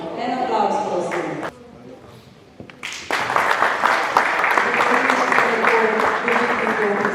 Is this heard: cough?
no